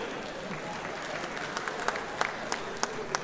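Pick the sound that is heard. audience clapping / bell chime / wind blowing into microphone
audience clapping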